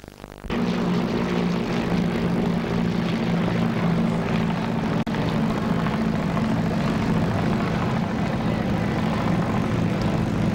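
Vintage trimotor propeller airliner engines, gasoline or diesel powered, drone steadily and loudly with a deep throbbing hum that holds even for about ten seconds.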